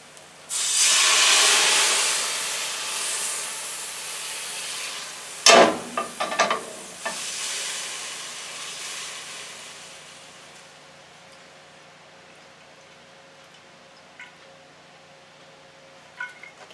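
Roughly two ounces of water hit a hot frying pan, bursting into a loud steamy sizzle that tapers over several seconds, broken by a few sharp scraping clatters, then fades to a faint simmer.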